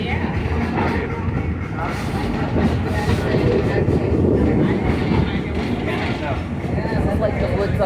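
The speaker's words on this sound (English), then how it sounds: "Enjoy some of the sounds that we hear from the steam locomotive as we move through here." A steam locomotive hauling cars through woods at Greenfield Village, a steady rumbling clatter of wheels and running gear throughout, with a voice talking over the train noise.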